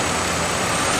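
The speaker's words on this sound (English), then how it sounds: "Now we're live and we've got the misfire" A car engine runs with a misfire caused by a dropped number 2 injector, a steady close mechanical drone with a faintly uneven, rough texture throughout one continuous second.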